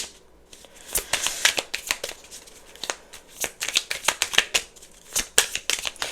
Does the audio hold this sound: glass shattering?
no